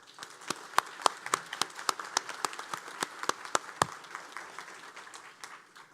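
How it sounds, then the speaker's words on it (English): Scattered applause from a modest crowd: sharp individual claps with a loose rhythm, moderately loud, tapering off toward the end. "please give Ms. Raquel Britton another round of applause."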